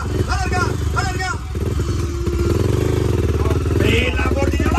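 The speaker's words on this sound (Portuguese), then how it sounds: "ó o tiro dos motores, subiu, subiu, vai largar" Several motocross motorcycles rev their engines at the start line of a race in Cariús, Brazil, a loud continuous buzzing drone with rising pitch, while voices talk over it.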